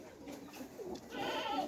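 Pet pigeons in a loft cooing, a series of low throaty coos rising and falling close by over a faint background hiss, with no talking.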